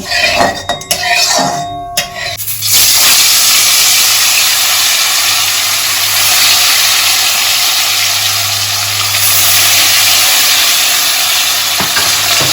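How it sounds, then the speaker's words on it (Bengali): Vola fish fry in hot mustard oil: a few clattering knocks give way to a loud, steady, close sizzle that hisses on without pause. "এবার তেলটা খুব ভালো করে গরম করে নিয়ে মাছগুলো ভেজে নেব।"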